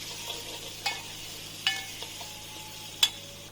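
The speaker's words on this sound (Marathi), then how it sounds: "आपला घरगुती मसाला घालून परतायचं थोड्या वेळ तेलामध्ये" Homemade masala being stirred as it fries in oil in a pan, a soft steady sizzle with a few sharp clinks of a spoon against the pan.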